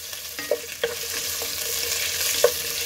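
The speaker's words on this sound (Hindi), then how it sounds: "अब इसमें मैं 1/2 उबला हुआ क्यूब किया हुआ आलू डालूंगी।" Boiled cubed potato frying in a pan over low flame for sabudana khichdi, stirred with a few distinct scraping clacks over a steady close sizzle, no voices.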